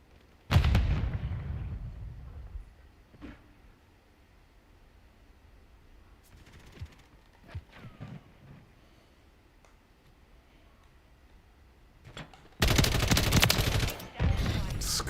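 RAM-7 assault rifle bursts in Call of Duty Modern Warfare III: a loud opening volley, then a long quieter stretch of faint distant shots and game sounds, before a final heavy, close burst of rapid fire.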